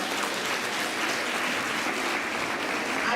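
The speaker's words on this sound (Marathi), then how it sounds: "या सगळ्यांसाठी जोरदार टाळ्या वाजवा" Loud, dense applause from an audience at a community awareness meeting, a steady crowd of clapping hands filling the whole stretch without a break.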